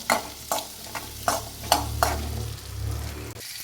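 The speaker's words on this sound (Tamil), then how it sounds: "இப்போ வந்து நம்மளுக்கு வெங்காயம் வந்து நல்லா வணங்கி வரணும்" Onions and three dried red chillies frying in a pan for chow chow kulambu, a low sizzle broken by a series of scraping stirs at a fairly regular pace, close up.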